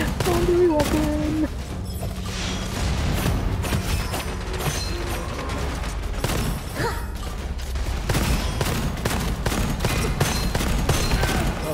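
Rapid gunfire and clanking weapon mechanisms from the first-person shooter Gunfire Reborn, loud and continuous with bursts of shots layered over game music and effects, while a player talks over the action.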